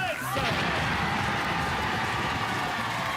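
A loud fireworks bang bursts out at the start on a TV game show stage during a New Year's Eve broadcast, followed by a sustained roar of crowd noise and rumble that stays loud to the end.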